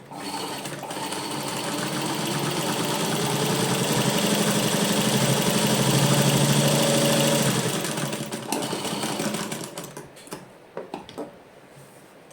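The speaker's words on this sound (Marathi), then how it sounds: "ही जी आपली जी नॉर्मल सिलाई ती इथे मी मारून बघते की व्यवस्थित येते का" A sewing machine fitted with a presser foot attachment runs a normal straight stitch, its fast, rhythmic mechanical clatter swelling loud and steady before slowing into scattered ticks and stopping.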